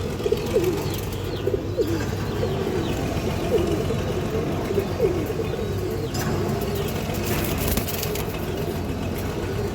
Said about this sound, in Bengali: এই দেখেন দর্শক সিলভার কবুতরের বাচ্চা